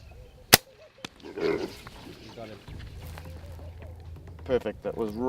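A rifle shot during a blesbok hunt cracks once, sharp and loud, followed by a second fainter report and then quiet bush ambience with low voices talking nearby.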